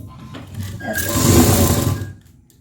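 Sewing machine stitching lace onto the hem of a suit, a single close, loud run of rapid stitching that builds and then stops.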